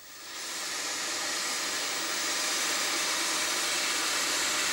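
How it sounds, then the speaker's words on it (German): A brand-new Bavarian express steam locomotive stands outside the engine shed at Nördlingen station, hissing steam in a steady, loud, broad rush that holds evenly throughout with no voices. "Vor dem Lokschuppen des Nördlinger Bahnhofs dampft ungeduldig eine nagelneue bayerische Schnellzuglok"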